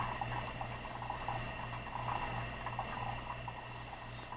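Bunn coffee maker brewing, a quiet steady hiss and gentle bubbling trickle of hot water with a low constant hum, heard alone and fairly close.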